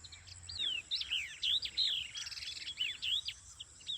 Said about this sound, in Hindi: माशाल्लाह कितनी खूबसूरत आवाज़ है चिड़िया की।